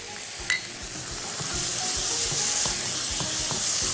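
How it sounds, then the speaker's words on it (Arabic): Tomato paste sizzles and fries steadily in a pan as it is stirred and sautéed for a meat-sauce dish, with a constant close hiss and occasional scraping stir sounds. "ان انا اشوح الصلصه كده بلاقي بص لون الطماطم بيبتدي يغمق اكتر"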